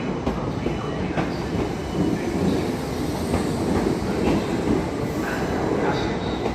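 Train at Clapham Junction station, a continuous loud rumble of rolling railway carriages with rhythmic wheel clatter on the track and faint squeals, heard alone.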